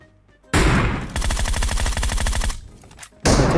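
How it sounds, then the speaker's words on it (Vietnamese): A DP machine gun fires in PUBG Mobile: a loud, rapid burst of evenly spaced shots runs for over a second, set off by shorter blasts before and after, with no talk over it. "bắn dp cứ tạch tạch tạch"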